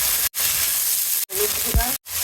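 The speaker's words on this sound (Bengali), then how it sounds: "পেঁয়াজ ভেজে দেব" Chopped onion frying in hot oil, a loud bright sizzle broken by a few short silent gaps, with a brief low thump partway through.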